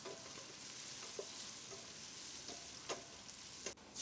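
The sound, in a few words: stirring seafood pulao with spices in a pot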